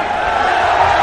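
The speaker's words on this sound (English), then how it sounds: "Big ovation from Shanghai crowd as this fight will continue." Crowd at a boxing match in Shanghai roars in a sustained, dense ovation, a broad wash of cheering and shouting that stays loud and steady throughout.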